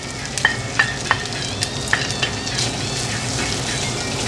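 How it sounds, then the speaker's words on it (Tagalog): Ground meat fries in a pan with a steady close sizzle, while a utensil scrapes and taps against the pan a few times in a loose rhythm. "Mga bay, add na natin yung ating giniling na karne."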